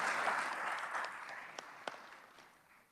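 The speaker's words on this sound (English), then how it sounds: "I'd like to give them one more round of applause" Applause fills the Senate chamber, a warm burst of many hands clapping that starts full and gradually thins and fades over a few seconds.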